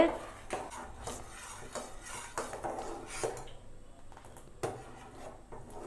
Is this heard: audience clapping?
no